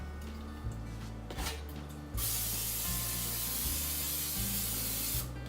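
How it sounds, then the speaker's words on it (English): Cooking spray hisses into a 9 by 5 inch bread pan in several close, loud bursts, with brief pauses between sprays. "we're going to take a 9 by 5 inch bread pan and spray it with some cooking spray"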